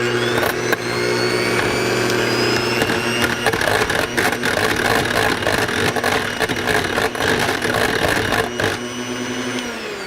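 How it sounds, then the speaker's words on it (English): Egg yolks for chocolate mousse are whisked with an electric mixer, a loud, steady motor whir with a rapid rattling texture that runs throughout and winds down at the end, with no talking. "So next thing I'm going to do now is I'm just going to give these a little whisk up."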